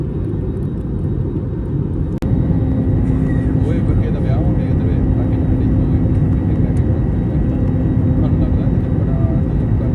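A loud, steady airplane engine roar fills the cabin with a constant low rumble as the plane lands in rain, a sharp click partway through and voices faintly beneath.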